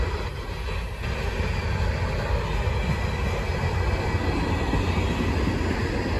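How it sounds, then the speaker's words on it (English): A loud Herzog freight train rolls past close by at Depew Amtrak station in the evening, a continuous heavy rumble and rattle of wheels on track with a faint high squeal, steady throughout. "we're catching a Herzog train"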